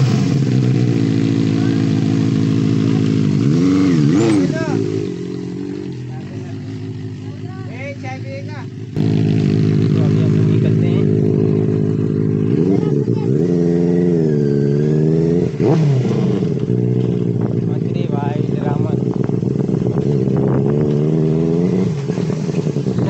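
A Benelli 600 motorcycle with a loud exhaust rides along a road, its engine droning close and revving up and down in repeated sweeps, with talk heard over the steady roar.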